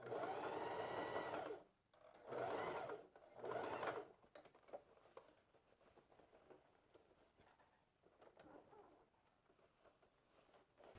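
A sewing machine stitches a wrap skirt-shorts garment in three loud, steady whirring bursts, followed by quieter handling clicks and light rustling.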